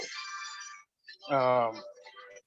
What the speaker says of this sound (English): Sorry, that was my other phone.